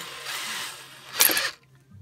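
A 1.5 mm drill bit boring into a camper van door's rear rail for a hinge, a brief close high-pitched whirring burst of about a quarter second after a steadier broadband hiss.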